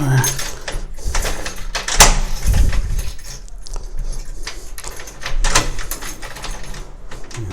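A door being opened in a town, with sharp clicks and a clunk of the latch and handle heard up close over street noise while someone talks.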